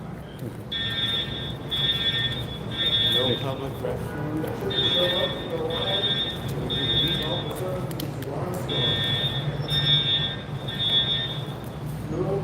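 An alarm at a building sounds in groups of three sharp, high electronic beeps repeating at a steady rhythm, moderately loud over outdoor background noise, while people talk nearby.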